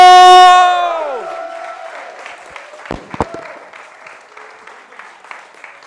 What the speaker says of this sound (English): let's give an extra special round of applause for Jenni Pascoe!